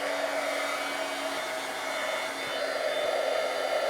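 A heat tool blows hot air to melt embossing powder on a handmade card, a close, steady whirring hum that holds unbroken throughout.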